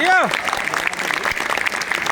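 An audience breaks into sustained applause, many hands clapping in a dense, even patter after a brief rising whoop.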